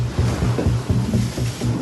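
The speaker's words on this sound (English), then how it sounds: "The sea state is extremely rough." Rough, churning open-ocean water in an extremely rough sea surges in repeated heavy pulses with wind roaring over it, loud and close.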